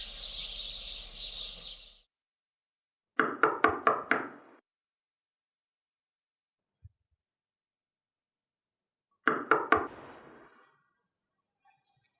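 Two bursts of rapid knocking on a door, four or five sharp raps each, separated by several seconds of silence and with no talk.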